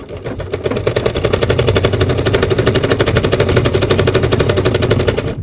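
A sewing machine stitches the side seam of a garment in a fast, continuous needle rattle. It stays loud and close for about five seconds with a slight tapering at the end.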